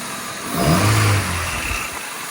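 Honda Civic engine revs briefly through a new intake, its mid-pitched roar rising and falling once over a steady idle with an airy sucking hiss.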